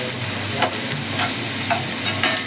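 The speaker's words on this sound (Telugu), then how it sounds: "ఉల్లిపాయలు కాస్త వేగాలండి" Onions with a little salt fry in a pan for a tamarind-leaf prawn curry, a steady loud sizzle broken by regular scraping strokes of stirring about twice a second.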